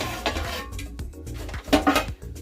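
A metal lid clanks onto a cooking pot of aloo matar gobi pulao, with a few close rattling knocks and scrapes of metal against metal.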